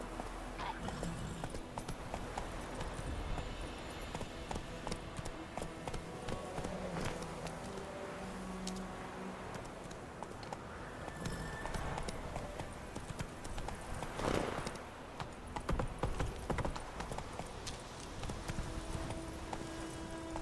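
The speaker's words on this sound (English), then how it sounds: "Whoa there, Roach." Horse hooves clip-clop steadily on the ground in a video game, a continuous rhythmic trotting heard fairly faintly with a voice speaking now and then.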